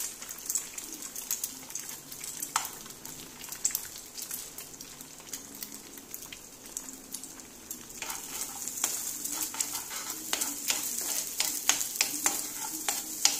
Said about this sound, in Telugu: ఎగ్స్ని ఈ విధంగా మంచిగా ఫ్రై చేసేసుకోవాలి